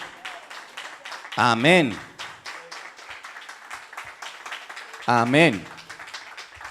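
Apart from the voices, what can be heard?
applause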